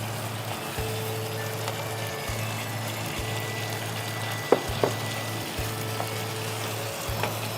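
Spice masala for a cauliflower roast sizzles and fries in oil in a pan, a soft continuous crackle over a low steady hum, with a few faint clinks of utensils.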